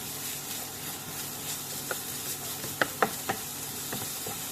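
Pork and garlic stir-fry in a hot pan with a steady broad sizzle, broken by a few sharp scrapes and knocks of the spatula near the end.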